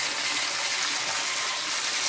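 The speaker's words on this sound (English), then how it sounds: "we are overflowing into the tank" Water overflows steadily into a 4500 gallon DIY aquarium tank, a continuous loud rushing gush with no break.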